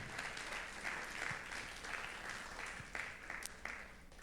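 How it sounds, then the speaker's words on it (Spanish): A church congregation at a Sunday service claps together, a soft, steady wash of hands heard from a distance, rather quiet, with one or two sharper claps standing out and no speech over it. "Dale un aplauso al Señor por la palabra."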